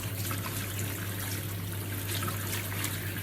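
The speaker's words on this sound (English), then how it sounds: "So I'm gonna fill the sink with lukewarm water." Lukewarm tap water running from a faucet into a sink, a steady continuous rushing trickle with a low constant hum underneath, moderately quiet and uninterrupted.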